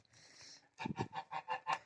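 Ducks at a village yard splash and bathe in water poured from a pump, one sitting in a bucket; a honking quack comes first, then a rapid series of close, loud quacks.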